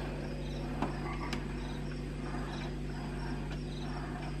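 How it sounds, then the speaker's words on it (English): Crickets chirp steadily in a looping background drone with a low hum, with a few faint clicks scattered through, played by a Fisher-Price Sweet Snugapuppy Dreams Cradle 'n Swing. "Crickets."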